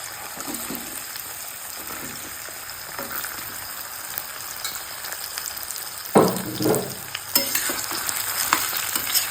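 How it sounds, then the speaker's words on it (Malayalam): About half a kilo of dates frying in hot oil, a steady crackling sizzle that swells sharply partway through as the pieces are stirred, close and fairly loud with no talk. "ആദ്യം നമുക്ക് ഈത്തപ്പഴം ഒന്ന് ഫ്രൈ ചെയ്തെടുക്കാം."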